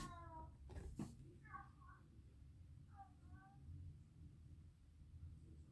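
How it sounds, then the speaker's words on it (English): A kitten meowing faintly in the background of a room, a couple of short plaintive calls spaced a second or two apart, quiet under a low steady hum. "it's because our new kitty friend's meowing"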